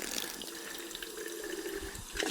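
Tap water running into a container to fill or rinse it while cleaning synthetic grass: a continuous splashing gush, near and fairly loud, with a brief brighter splash at the end.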